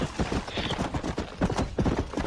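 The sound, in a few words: horse hooves in Red Dead Redemption video game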